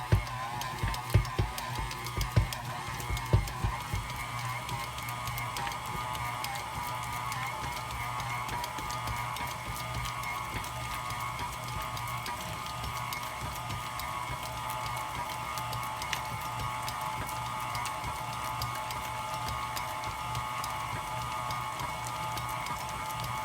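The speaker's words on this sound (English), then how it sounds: "We will let the mixer knead our dough. Wait on slow." An electric stand mixer kneads bread dough for pandesal, with butter being worked in, at slow speed: a steady, even motor hum with a faint mechanical whir, unbroken and alone after a few brief knocks at the start.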